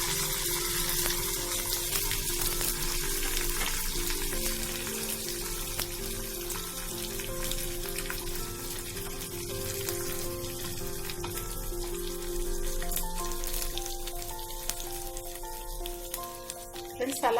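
Curry leaves and asafoetida sizzle loudly in hot tempering oil for a temple-style curd rice, a steady hissing crackle held close throughout with a faint background hum.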